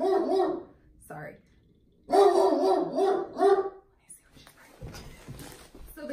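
A guard dog barks in short bursts, fairly close, with voices and chatter around it; the barking comes in a couple of loud clusters separated by quieter moments of talk and room noise.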